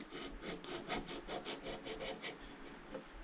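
A hacksaw cuts through a new Fox Factory fork steerer tube guided by an old stem, with a quick, even run of close rasping strokes that slows toward the end.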